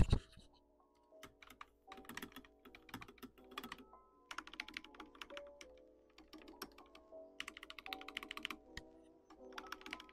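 Royal Kludge RK920 mechanical keyboard with red switches clacks in quick, irregular bursts of typing, close and crisp, with brief pauses between runs of keystrokes.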